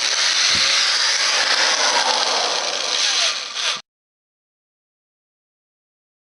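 A loud, steady whirring grind of a battery power drill boring holes for a few seconds, then abrupt silence.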